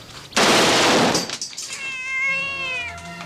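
From the 1987 film Enemy Territory, a loud burst of noisy hiss is followed by a drawn-out, wavering cat meow, close and clear against a quiet background.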